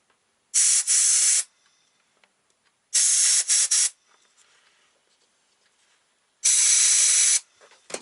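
Three loud bursts of compressed air hiss through the impulse channel of a John Deere CS 36 chainsaw, each lasting about a second, with quiet gaps between them and a fourth burst starting at the end.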